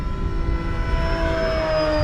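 An FMS DeHavilland Beaver 2000mm RC model float plane flies past with a steady, loud electric motor and propeller whine whose pitch slowly drops as it goes by.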